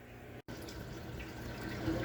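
Water drains out of a cichlid aquarium during a water change, a soft continuous trickling and splashing flow, quiet and steady with a momentary break.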